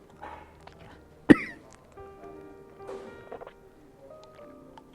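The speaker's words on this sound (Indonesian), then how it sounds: "Kalau saya batuk, saya harus minum." One sharp, loud cough from a man bursts out in an otherwise quiet room, with faint scattered clinks and soft background noises before and after.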